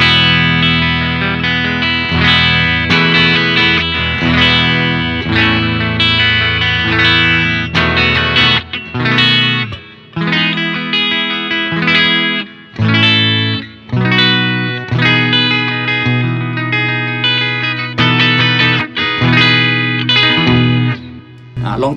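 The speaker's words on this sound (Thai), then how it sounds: "เล่นเสียงคลีนก่อนแล้วก็เสียงคลีนใส่เอฟเฟคคอรัสดีเลย์รีเวิร์บ" Clean electric guitar chords and picked notes from an Umeda ST-20 HSS guitar washed in shimmering chorus, echoing delay and spacious reverb, with brief pauses between phrases.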